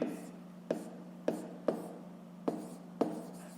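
Pen strokes writing out a fifth-grade maths solution, with sharp taps as each stroke lands at an uneven pace, close and fairly quiet over a low steady hum.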